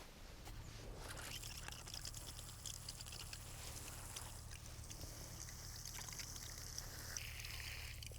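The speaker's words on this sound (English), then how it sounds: "now to give these a water" Water poured from a can onto newly planted seedlings in a garden bed, a steady soft pattering trickle running continuously throughout, with a low background hum underneath.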